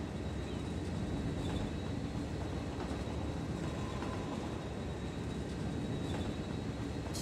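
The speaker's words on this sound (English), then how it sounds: "There's a commuter train that just went by, that green one." Commuter train passing in the Cities Skylines city-building game, a steady broad rumble and rushing hiss holding at even volume throughout with no talk.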